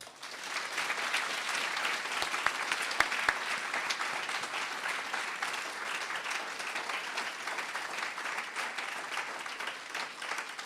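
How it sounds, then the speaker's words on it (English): Sustained audience applause at a youth awards ceremony, steady dense clapping filling the whole stretch at moderate loudness with a few sharper claps standing out early on, no talking over it. "Let's have a round of applause"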